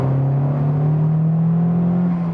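A 310 hp Honda Civic Type R accelerates from 70 to 100 in third gear, its engine droning in a loud, steady rising tone that fills the cabin without any talk.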